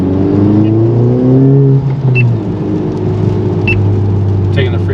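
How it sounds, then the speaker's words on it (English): A 2021 Honda Civic Type R FK8 with a Hondata custom tune whines as the engine pulls from inside the cabin, a tonal drone that rises and then falls away under a low road rumble, with a voice speaking over it. "the engine sounds different right there. The whining."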